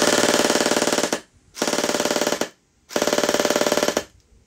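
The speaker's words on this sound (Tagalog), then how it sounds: "mas mataas yung rate of fire niya kasi nga mas mataas yung battery natin na nilagay dito" Gel blaster running on an 11.1v battery fires rapid full-auto bursts, three loud sustained volleys of about a second each separated by brief pauses, heard alone without talk.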